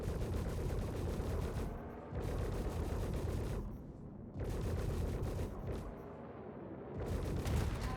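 Ship weapons fire at a turret in Star Citizen, from a Nomad ship, in long sustained bursts of rapid shots broken by brief pauses, loud and continuous with no talking.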